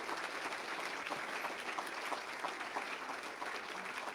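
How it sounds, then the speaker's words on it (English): Quiet but continuous clapping from a gathering at a legislative Developmental Disabilities Day event, honoring delegates and local elected officials, heard fairly distant and even throughout. "can we just give a round of applause to all of our delegates and local elected officials who are here as well"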